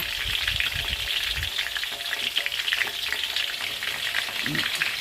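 Isan sausages fry in a shallow pan of oil, a dense, close, continuous crackle and sizzle with soft low knocks of stirring, and no talk.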